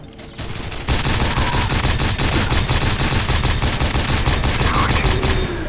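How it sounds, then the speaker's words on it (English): Rapid nail gun fire in Quake 4, a dense, loud stream of sharp mechanical shots running continuously for about five seconds after a brief lead-in, with no talking. "now let's try out the nail gun"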